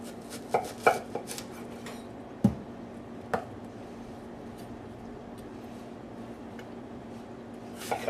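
Knife slicing half an onion thin on a board, a few sharp isolated chops with quiet gaps between them, close but soft against a low background hum.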